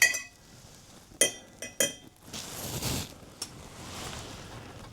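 A spoon stirs milk into a cup of tea. It gives a few sharp metallic clinks against the sides, then a softer swirling rush of liquid with one more light tap, close and fairly quiet, with no talk.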